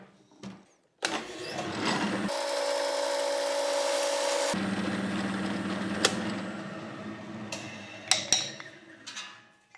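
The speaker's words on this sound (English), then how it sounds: "So I'm going to set my drill press to cut right about there." A drill press cutting wood whirs steadily for several seconds with a pitched machine hum, then winds down into scattered knocks and clatter of wood being handled.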